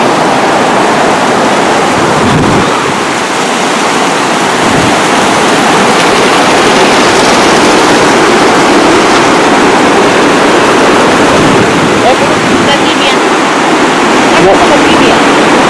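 Small waterfall by the Huaura river hot springs pours in a loud, steady broadband rush of falling water, with people talking faintly under the roar.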